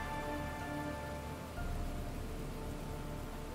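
Steady, dense rain hisses throughout a storm scene in the video game Heavy Rain, a continuous wash of falling drops with no pauses and no voices heard.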